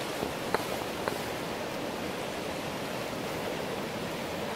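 Steady broadband rush of the raging Coquihalla River current, with a couple of faint brief knocks early on.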